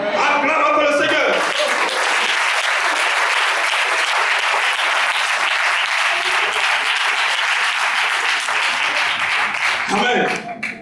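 A church congregation at a worship service claps loudly and continuously, a dense, sustained burst of applause that fades slightly at the end.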